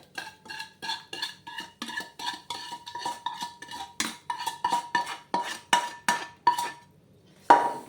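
Utensil clinks and scrapes against a pot as hot syrup with raisins and honey is stirred into roasted oats and seeds for homemade granola bars, a steady close rhythm of knocks and clinks for several seconds.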